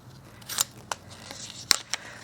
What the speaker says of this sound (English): Let me just get this blade and cut this right quick.